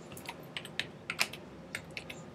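Keys tapped on a computer keyboard while text is entered, a quick irregular run of about ten light clicks close by over a faint steady background, with no voices.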